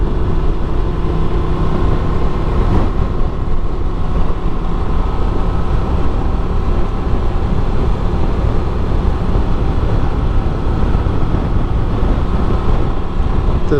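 A 2024 Honda Transalp 750 adventure motorcycle engine drones steadily while riding, a loud, continuous low rumble mixed with wind rush that holds level throughout.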